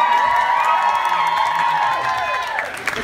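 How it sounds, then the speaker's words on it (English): Audience cheering and whooping for pole dancers at a semi-pro pole theatre drama competition in Ireland, a loud steady roar of crowd voices with shrill whistles and shouts, sustained throughout and easing slightly near the end. "Just a little bit more cheering for these ladies."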